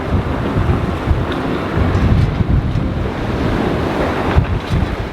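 Strong 45-knot wind roars across a sailboat on an ocean passage, blending with crashing waves and buffeting gusts against the microphone in a loud, continuous wash with no voices.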